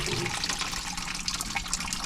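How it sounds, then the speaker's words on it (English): Water from a hose sprays over freshly scalded chickens on a homestead, a steady, fairly soft hiss and splash that goes on without a break and with no voices. "Spray water on them and hose them."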